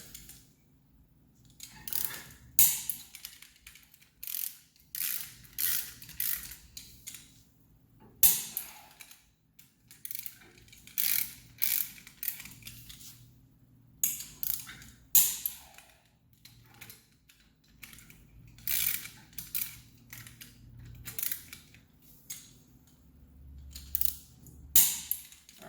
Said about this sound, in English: Now I'm just going to cross directional torques just like you do on a tire.